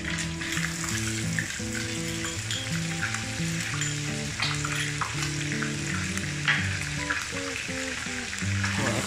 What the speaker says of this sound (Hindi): अब इसी में जो है हम जिंजर गार्लिक पेस्ट ऐड कर देंगे।